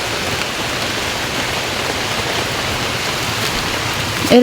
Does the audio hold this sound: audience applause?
no